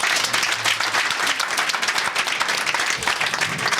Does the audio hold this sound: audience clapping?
yes